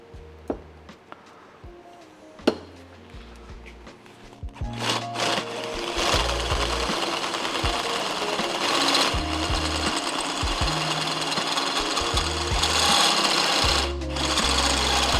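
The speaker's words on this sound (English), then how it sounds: "You whack your drill bit in there and cuts a lot better." A drill with cutting compound on its bit bores into a metal bracket on an XC Falcon panel van under restoration, a loud, steady whining grind with a few sharp knocks before it settles in.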